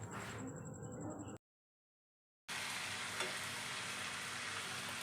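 Chicken curry sizzling in a pan while being stirred now and then, with a steady close frying hiss broken by a brief silent gap.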